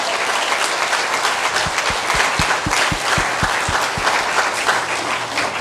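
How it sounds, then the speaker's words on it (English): Sustained applause from a crowd at a summit on water sovereignty and justice in Hawaiʻi. The dense clapping stays loud and steady throughout, with a short series of regular low thumps partway through. "can I have another round of applause for all of these fabulous people?"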